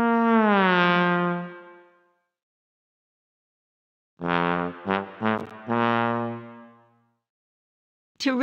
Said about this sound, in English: Terrific! You found the trombone.